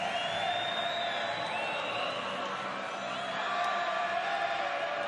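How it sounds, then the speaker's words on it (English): A crowd at a women's football game between Queensland Brigade and Western Australia Angels chants Angels, a dense, sustained wash of many voices with rising and falling pitch, heard from a distance without pause. "The crowd chanting Angels, trying to get behind this team."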